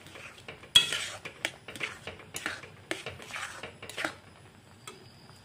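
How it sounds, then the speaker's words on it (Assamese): Roasted semolina (sooji) stirred with milk in a pan for sooji mithai: a string of close, irregular scraping and clinking strokes of a utensil against the pan, with a sharp clatter near the start and no talk. "গাখীৰ দি লগে লৰাই দিম, নহ'লে চুজিখিনি গন হৈ যায়"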